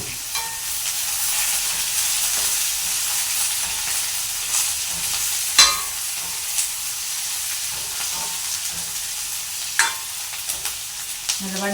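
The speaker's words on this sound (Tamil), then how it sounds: "அப்படியே பச்சை மிளகாய், கருவேப்பிலை, முருங்கங்காய் அவ்வளோத்தையுமே வந்து சேர்த்து போட்டு அப்படியே வதக்க போகிறோம்" Onions, green chili, curry leaves and drumstick pieces sizzle steadily in a hot pan for prawn drumstick sambar, with occasional clinks and scrapes of a stirring spoon, no voices.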